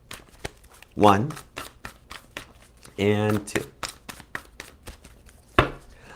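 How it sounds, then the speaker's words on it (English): Tarot card deck shuffled by hand in repeated quick riffling bursts and soft slaps, close by, with a person talking between the shuffles. "Give me 2 shuffles for Pisces."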